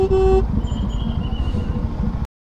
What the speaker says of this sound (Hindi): हॉर्न ही बैठ गया यार बाइक का।